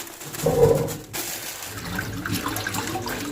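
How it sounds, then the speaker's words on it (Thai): Small fish being gently washed by hand in salted water before frying: close swirling and splashing water, loudest at the start, then a steady lighter churn with no voices. "จากนั้นก็ใส่เนื้อปลาลงไปล้างได้เลยค่ะ"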